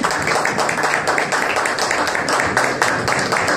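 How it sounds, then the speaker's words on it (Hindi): Congregation clapping hands at a church sermon, dense rhythmic applause in a reverberant hall, loud and continuous throughout. "पुरजोर तालियां बजाएं"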